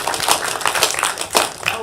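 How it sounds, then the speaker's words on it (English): A city commission meeting audience claps for a man called up to speak, the applause dense and continuous across the short moment, with a few louder bursts standing out. "Can everybody clap for Luke?"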